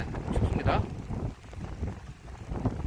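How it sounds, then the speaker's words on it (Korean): Steady typhoon wind gusting and buffeting the microphone at a riverside campsite, a low rumbling roar that swells and eases, flapping a tipi tent. "바람 소리"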